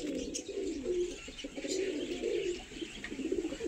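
Madras triplet pigeons coo in a steady, low murmuring chorus, with soft overlapping calls and faint chirps running throughout at moderate distance, with no speech.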